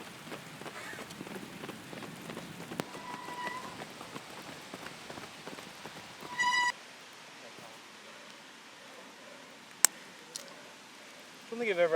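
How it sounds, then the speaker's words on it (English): Heavy, torrential rain patters steadily during an outdoor running threshold session, a constant soft hiss with occasional sharper clicks and bumps from nearby movement. "I don't think I've ever actually done this in torrential rain."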